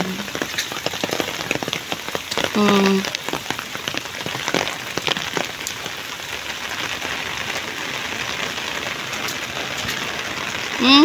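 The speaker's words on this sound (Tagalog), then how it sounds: "kasi umuulan" Heavy typhoon rain pours steadily onto surfaces in a low-lying rural area, a constant dense hiss with scattered louder drops running throughout, with a faint voice and a brief chirp in the background.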